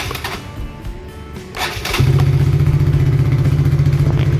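A fuel-injected Honda motorcycle engine starts up after a few brief clicks and whirs, catching at about two seconds and settling into a loud, steady idle close by.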